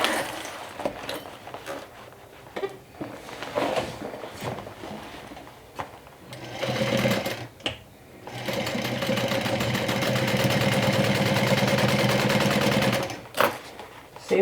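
A sewing machine top stitching a vinyl cosmetic bag, with a few short stuttering bursts of stitching and handling noises followed by a long steady mechanical whirr, close up, then a final quick burst.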